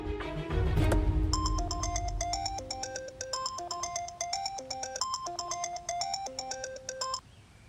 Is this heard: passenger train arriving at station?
no